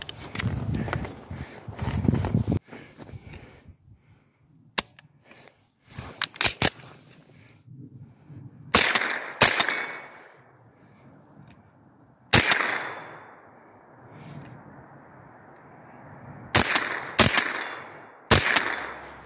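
A scoped rifle with a 5-25x56 optic fires at targets in a series of sharp, loud reports spaced several seconds apart, each followed by a fading echo, with quiet pauses between shots.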